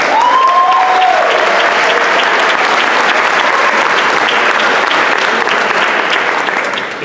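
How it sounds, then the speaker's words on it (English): An audience at a spring high school band concert applauds award winners, with dense, loud, sustained clapping that continues throughout before easing slightly at the end. "Let's give our award winners a round of applause."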